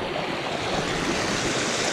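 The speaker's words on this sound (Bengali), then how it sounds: "পানির সাউন্ডটা শুনতেছেন?" Stream water at Debotakhum rushes over large rocks in a quiet hill area, a close, steady broadband flow without pause.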